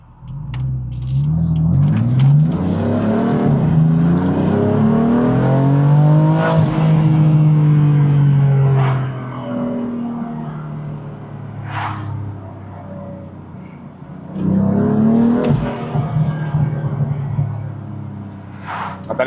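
A Velvet Blue Metallic BMW M4 on a country road in sport mode, its engine and intake roaring loudly from inside the cabin as it accelerates, easing off around mid-clip, then surging again with rising revs.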